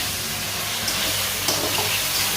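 Tomatoes tipped into a hot pan of cooked raw mango in a home kitchen give a steady, close, hissing sizzle that holds evenly throughout.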